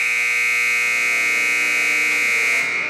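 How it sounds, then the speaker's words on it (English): A worn-out ice hockey arena buzzer blares with a harsh, continuous electric tone for about three seconds, loud and unbroken, then cuts off. "Our buzzer sounds like it's seen better days, or heard better days."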